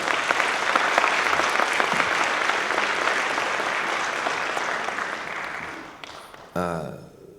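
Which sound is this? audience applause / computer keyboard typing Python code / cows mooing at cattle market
audience applause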